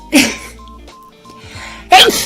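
A woman sneezes twice, each a sharp, close, loud burst, with a quiet pause and faint breath between them.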